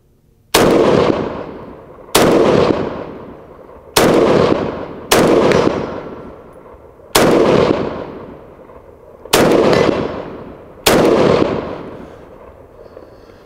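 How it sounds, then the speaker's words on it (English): An Ikon Weapons Gold Micro Galil pistol fired outdoors: seven loud, sharp single shots at irregular intervals of one to two seconds, each with a crisp crack and a decaying echo. "This thing does shoot a lot better with the hollow sun on it."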